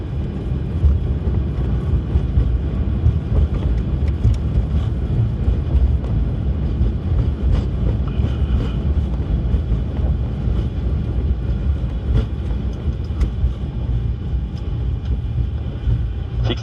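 Boeing 777 thrust reversers roaring during the landing rollout on runway 24R at Los Angeles, heard from the cockpit as a loud, continuous low rumble and rush with wind noise and no talking.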